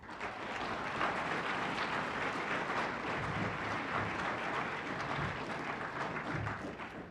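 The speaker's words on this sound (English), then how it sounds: "So give yourselves a round of applause." Audience applause at an environmental competition awards ceremony, a dense, steady wash of many hands clapping that holds loud and even for the whole stretch.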